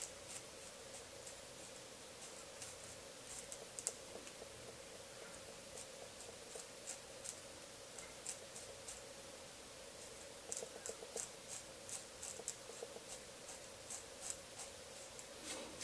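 Straight razor and edge-up trimmers scrape through beard hair during a close beard line-up, giving faint, dry, rapid scratching strokes in irregular bursts against a quiet hiss, with no talking.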